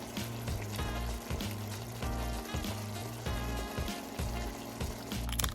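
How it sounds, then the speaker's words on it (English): Chicken sizzles and fries steadily in a pot for Trinidadian pelau, a dense crackling hiss heard close up, running evenly throughout under a quiet backing beat. "I don't know about you guys, but I love a sizzle. It's my favorite cooking sounds."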